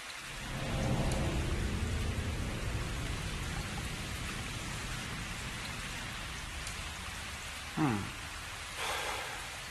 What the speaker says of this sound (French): Maintenant, il pleut.